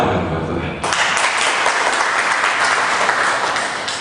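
A church congregation bursts into loud, sustained applause during a worship service sermon, the clapping starting abruptly and continuing densely over faint talk.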